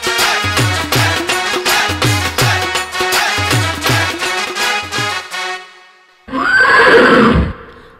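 A mare gives a long, loud neigh close by. A rhythmic musical backing plays first and fades, then the whinny rises and falls alone near the end.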